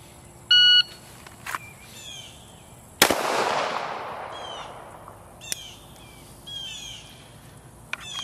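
A shot timer gives a sharp electronic beep, and a Glock 19 pistol then fires a single loud crack outdoors that rings out and fades, with birds calling faintly in the background.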